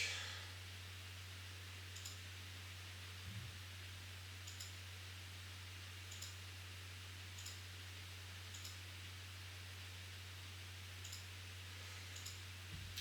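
Faint computer mouse clicks at a desk, sparse single taps spaced a second or so apart over a steady low electrical hum and quiet room hiss.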